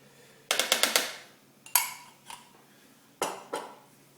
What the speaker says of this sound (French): On racle bien les bords.